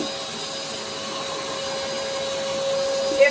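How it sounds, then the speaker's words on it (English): Dog grooming dryer running on a low setting while drying a Golden Retriever, a steady airy whoosh with a constant hum that holds level throughout, rising slightly near the end. "when you have the dryer on, it actually reduces the strength again"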